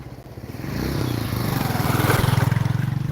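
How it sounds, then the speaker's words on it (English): A motorcycle passes along a street in Togo, its engine rising from a faint approach to a loud, rattling buzz that peaks close by and stays strong to the end. "Oh, I hear a motorcycle."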